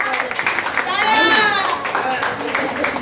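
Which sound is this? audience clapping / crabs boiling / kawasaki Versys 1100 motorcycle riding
audience clapping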